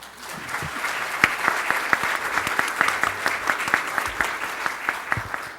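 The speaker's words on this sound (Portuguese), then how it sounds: "só podemos lhe aplaudir e lhe agradecer" An audience at a national electoral law congress applauds in a steady, dense wash of clapping that holds for several seconds, with faint voices beneath.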